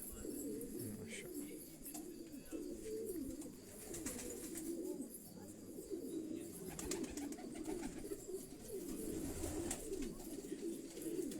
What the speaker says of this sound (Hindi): ये डेनमार्क का 1 लाफ्ट का कबूतर है.